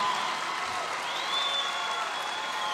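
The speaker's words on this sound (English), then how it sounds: "that always gets, like, the biggest applause" Crowd applause at a political rally, a dense, steady wash of clapping and cheering that holds at an even level throughout, with no talk over it.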